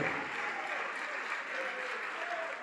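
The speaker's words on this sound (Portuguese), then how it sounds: "Vamos aplaudir" A congregation claps together during an evangelical church service, with sustained even applause heard at moderate level and a faint murmur of voices running underneath.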